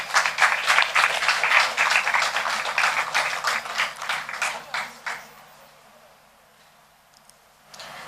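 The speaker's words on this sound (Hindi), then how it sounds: "जोरदार तालियों के साथ सर का स्वागत किया जाए।" An audience at a literary festival on Tulsi and Kabir bursts into brisk, rhythmic applause to welcome a guest, loud at first and gradually fading out after about five seconds into near silence.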